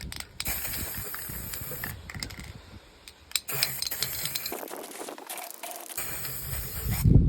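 An Action-brand white spray paint can hisses in several bursts as it coats yellowed camper van plastics masked with tape, with short gaps, rattles and handling noises between sprays, close and fairly loud.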